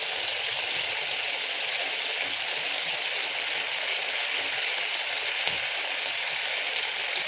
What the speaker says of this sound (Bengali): গ্রেভিটা ফুটে এসেছে।